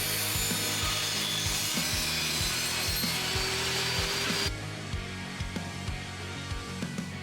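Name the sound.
sawing, ripping a hardwood board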